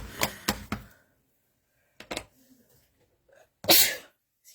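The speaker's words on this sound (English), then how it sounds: "Now I have to sneeze." Close, sharp human sneezes: a quick pair of bursts, another a couple of seconds later, then a final forceful one, with quiet pauses between.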